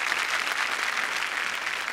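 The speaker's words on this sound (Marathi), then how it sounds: "जोरदार टाळ्या त्यांच्यासाठी झाल्या पाहिजे." A studio audience at a Marathi comedy show claps in a steady, dense burst of applause, loud and close, with no voices over it.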